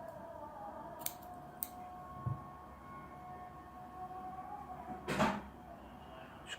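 Scissors snip crochet yarn after a knot is tied, giving a single soft cut within a quiet room with faint household background noise and a few small clicks.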